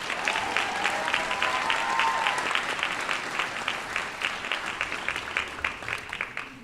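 An audience at a school district graduation ceremony applauds in a sustained wash of clapping that slowly thins out toward the end.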